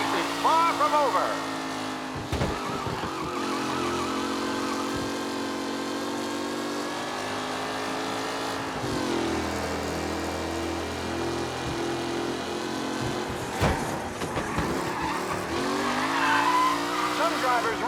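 Race cars in Mafia Definitive Edition roar past with engine drones and repeated tire squeals and skids, loud and continuous, with a commentator voice faintly mixed in at times.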